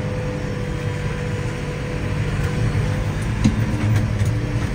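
McCormick 6-cylinder tractor of about 180 to 185 horsepower driving on a bumpy track, a steady loud low engine drone with cab rumble and occasional knocks and rattles.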